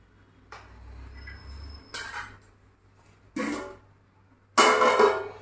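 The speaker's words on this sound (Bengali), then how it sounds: "এবার আমি এখানে ঢাকা দিয়ে দেব।" A lid is set on a cooking pan of prawns with brinjal and potato, giving a few separate metallic clatters and clinks, each followed by a short ring, in an otherwise quiet kitchen.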